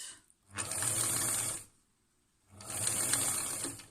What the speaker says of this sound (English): And sew to my corner.